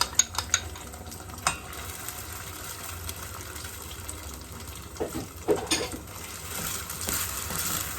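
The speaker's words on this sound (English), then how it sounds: "What I want that to do is to fry up" Peppers and a little tomato sauce frying in a pan, a steady low sizzle with a few sharp stirring clinks and scrapes near the start and again around the middle.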